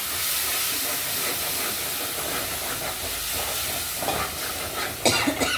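Tomatoes added to hot oil in a pan with masala, giving a steady loud hiss and sizzle throughout, with a few sharper crackles near the end and no talk.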